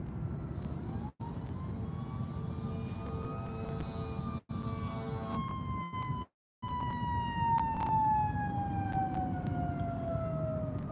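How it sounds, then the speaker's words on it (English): A fire truck siren wails from a distance while heard from a car on a highway, its long rising and falling tone sweeping slowly over steady road rumble, with several brief dropouts. "Alright, I hear the fire truck."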